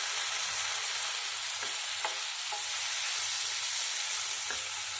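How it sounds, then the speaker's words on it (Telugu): Brinjal and potato pieces frying in a pan, a steady close sizzle and hiss that runs throughout, with a few faint clicks of stirring and no talking. "వంకాయ ముక్కలు కూడా వేగిపోతున్నాయి."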